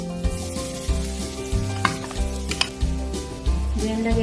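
Garlic goes into hot oil for a chicken gizzard stir fry and sizzles steadily, broken by rhythmic scraping and clanking of a utensil against the pan roughly every half second.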